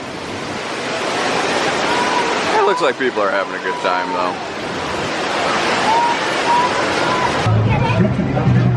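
Artificial surf rolls and crashes in the wave pool at Universal Volcano Bay water park in Orlando, a loud continuous roar with crowd babble behind it and a person talking over the water.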